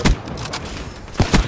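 Gunfire in Black Ops 3: a few short, sharp bursts of shots, one at the start and another pair near the end, loud and close against quieter game noise.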